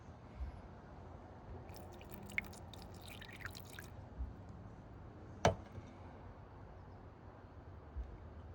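Water trickles slowly down a clogged sunroof drain on an Audi A4, giving soft, close drips and wet squelches with one sharper splash, and no talking.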